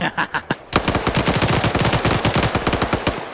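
A PKP machine gun fires in a video game: a couple of short bursts, then a loud, sustained stream of rapid automatic shots, close and unbroken, with no talking.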